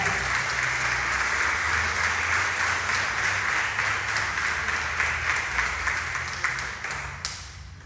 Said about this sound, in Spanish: denle su mejor aplauso de esta mañana, alábenle, porque Él es bueno